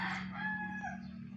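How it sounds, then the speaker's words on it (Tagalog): A single rooster crow in Davao, Philippines, fairly faint and brief, rises and fades over a steady low electrical hum. "Ang daming manok."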